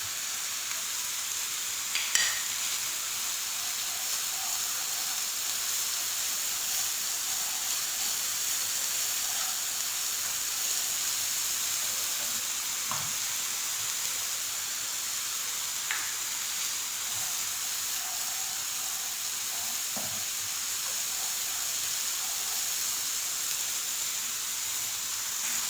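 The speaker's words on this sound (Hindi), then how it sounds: "मसाला भून लिया है हम लोगों ने बिल्कुल अच्छे से।" Spices for mutton kaleji fry in oil in a pan, giving a steady close sizzle and hiss with occasional stirring scrapes over about twenty-five seconds, with no talking.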